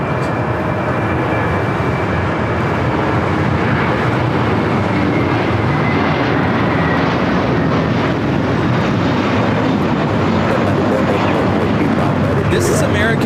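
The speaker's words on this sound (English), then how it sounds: "This is American Airlines 238 taking off to JFK on the A321" An American Airlines A321 airliner takes off at LAX bound for JFK, its jet engines a steady, broad roar held at constant loudness throughout, with people talking over it.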